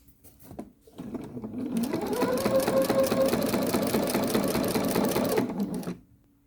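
A sewing machine fitted with a walking foot runs at a steady fast hum while quilting around the edges of a rose block, starting after a couple of brief clicks and stopping cleanly near the end, close and without talk.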